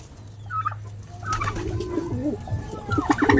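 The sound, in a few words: pigeon cooing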